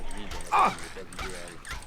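In Fallout 3, a dog gives a loud yelp followed by whimpering and smaller yips, heard up close while someone talks over it.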